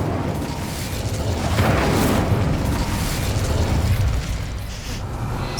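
An Incendio fire spell in Hogwarts Legacy lets out a sustained, rumbling roar of flame that swells and fades over several seconds, loud and dense with no clear separate hits.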